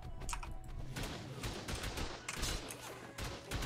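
Rapid bursts of turret gunfire during a raid in the ARK survival game, dense and continuous with sharp repeated shots over a busy background.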